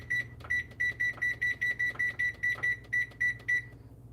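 A kitchen timer beeps steadily, about fourteen short, evenly spaced high-pitched tones at a quick rhythm, close and clear over a low hum of the kitchen, before stopping.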